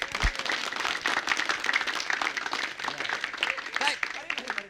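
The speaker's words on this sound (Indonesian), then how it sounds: "Tepuk tangan aja ya." Studio audience applause on an Indonesian educational television quiz show, steady clapping from a crowd that runs throughout with speech mixed in over it.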